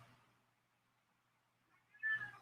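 A cat gives one short meow near the end, faint and somewhat distant against a quiet background with a low hum.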